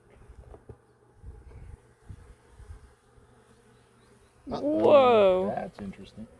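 Honeybees at a backyard hive during an inspection with a smoker, a short loud close burst of buzzing and whine after quieter stretches with a soft background hum and a voice nearby.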